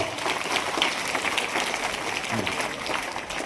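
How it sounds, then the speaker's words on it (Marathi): Steady, dense applause from a crowd at a high school annual gathering and prize ceremony, sustained and even throughout with no break. "जोरदार टाळ्या वाजवा"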